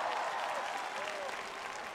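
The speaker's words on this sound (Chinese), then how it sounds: "让我们掌声欢迎许继" An audience applauds a guest introduced at a singing competition show, a dense wash of steady clapping with a host's voice partly audible beneath it.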